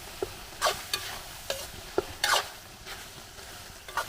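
A spoon stirs sinabawang tanigue, a Filipino fish stew, in a cooking pot: irregular scraping clinks against the metal, close and distinct, over a soft background simmer.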